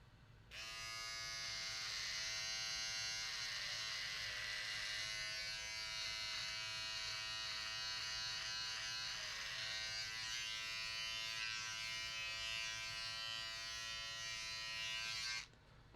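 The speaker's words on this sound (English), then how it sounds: "please shave the other part of your stash" An electric razor buzzes continuously and steadily for about fifteen seconds while it shaves a mustache, close and loud, starting and stopping abruptly, with no talking.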